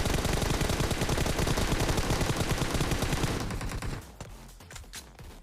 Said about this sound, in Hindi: स्कूल की साइड से टप टप फायर आने लगता है